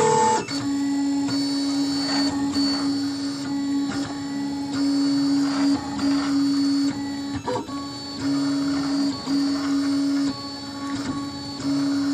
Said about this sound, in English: You can hear it digging into the tape over there and printing over here.